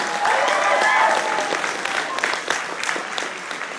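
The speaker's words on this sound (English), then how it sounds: "Y'all give him another round of applause." Audience at a poetry cypher gives poet DeAndre a round of applause, many hands clapping in a dense, lively burst that swells early and then thins a little, with faint voices mixed in.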